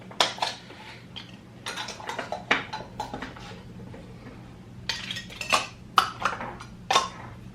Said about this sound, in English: So we're just gonna put these lids on